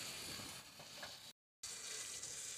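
Green chillies fry in a pan with crushed coriander and fennel, giving a close, steady sizzle broken by a short gap of silence before it resumes at the same level.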